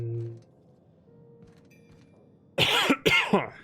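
Near silence with a faint hum, then a few loud, harsh coughs in quick succession close by.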